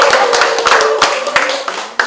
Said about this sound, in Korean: 박수 안 쳐요?